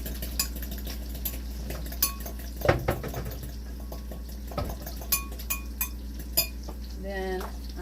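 Dry ingredients, onion powder and salt, being stirred together in a bowl for a pizza chaffle, with a few light scrapes and clinks of a utensil against the dish over a steady kitchen hum.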